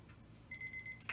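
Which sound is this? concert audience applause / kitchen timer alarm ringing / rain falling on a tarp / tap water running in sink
kitchen timer alarm ringing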